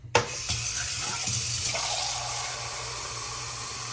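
Water pours steadily from a container into an Arctic Air Pure Chill air cooler's tank, a close, continuous rushing gush that starts abruptly after a brief clunk and holds evenly to the end.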